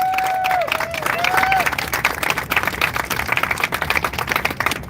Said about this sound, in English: Give a big clap for Daniel and Amir